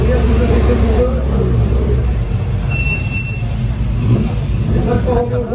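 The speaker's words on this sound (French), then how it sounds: "Voilà, ça c'est la 197. Voilà, Mercedes 197 qui passe." A classic Mercedes 197 engine rumbles past nearby at the Pau-Arnos circuit, a steady low drone that swells and fades, with voices talking over it in French.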